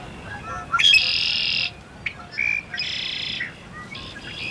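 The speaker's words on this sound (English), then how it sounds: "These red-winged blackbirds were hollering up a storm." Red-winged blackbirds in a windy valley give loud, harsh buzzy calls in three or four separate bursts over a breezy hiss, fairly close.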